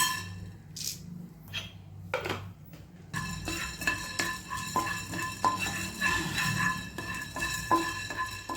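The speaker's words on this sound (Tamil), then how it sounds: "மிளகு லேசாக வாசம் வந்தால் போதும் ரொம்ப பொரிய வேண்டாம்" Black pepper frying in a pan for Mumbai-style chicken 65, heard as a soft crackle under clinking and scraping of a utensil against metal, quiet at first and then busier and steadier after a few seconds.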